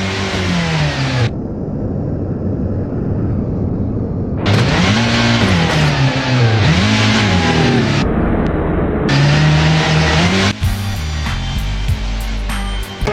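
A BMW M3 in the BeamNG driving game revs and accelerates, its engine note climbing and falling through repeated throttle blips, loud and close with abrupt cuts between bursts.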